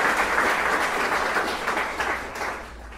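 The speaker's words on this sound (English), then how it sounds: "A round of applause for" An audience at a book-related talk breaks into steady, dense applause that holds strong, then gradually thins and fades toward the end.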